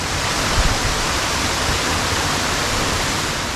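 A waterfall roars as a steady, dense, broadband rush that is loud and constant throughout, with no voices.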